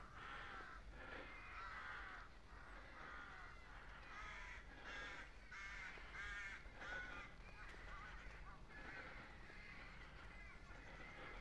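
Crows cawing along a countryside bike ride in Whitwell, a steady series of rough caws from several birds at middle distance over continuous wind and road noise.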